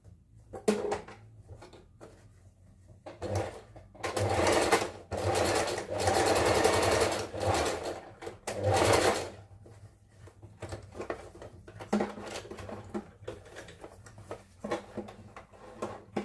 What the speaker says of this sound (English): Now I'm going to join this up like that with my zigzag stitch